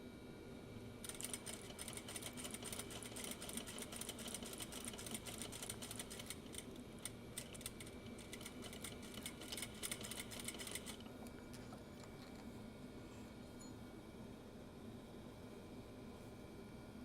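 A sewing machine stitches in a home sewing room, running in a fast, steady mechanical patter for about ten seconds before stopping, leaving a low room hum.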